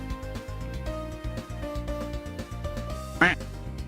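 A single loud duck quack sound effect from the Ace Attorney Investigations 2 video game bursts out near the end, over steady game music with a tonal background.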